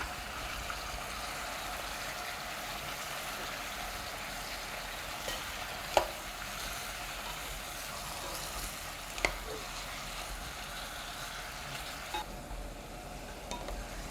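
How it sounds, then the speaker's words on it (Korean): Meat and kimchi stew ingredients stir-fried with a spatula over medium heat, giving a steady, soft sizzle with a few faint scrapes and taps throughout. "그리고 볶음 주걱으로 재료를 볶아주세요."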